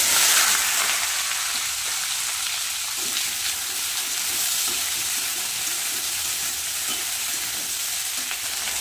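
Okra and potato frying in hot mustard oil with kalonji, a steady loud sizzle with faint stirring scrapes, continuous and close with no voices.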